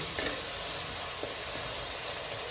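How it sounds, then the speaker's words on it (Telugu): Meal maker soy chunks fry in a pan with a steady, close sizzle and hiss of hot oil, joined by a few faint stirring clicks. "కొద్దిగా చూడండి ఎంత అద్భుతంగా బాగా వేగిపోయినాయి"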